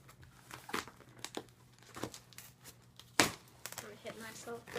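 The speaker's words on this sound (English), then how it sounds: "Here we go, opening the box that I am bad at." A cardboard shipping box of books being cut open with a blade, giving scattered scraping, crinkling and tearing sounds, close and fairly quiet, with one sharper rip partway through.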